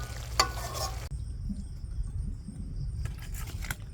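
Small river fish are mixed by hand with green chillies and a little water, giving a soft, wet, squelching and stirring texture that runs steadily throughout, close up and fairly quiet, with no talk.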